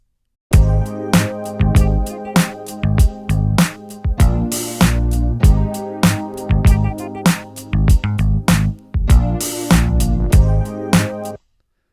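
Full hand-played mix of drums, synth bass and keyboards, punchy beats driving steadily under sustained keys and bass for about eleven seconds, loud and dense, ending abruptly with no voices.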